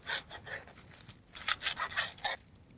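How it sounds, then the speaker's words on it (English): A knife slicing green lettuce leaves into thin strips, giving quick bursts of crisp scraping cuts in uneven clusters, close and fairly quiet, with no talking. "Next is green lettuce. You can cut these any ways you like. I'll just cut them into thin little strips."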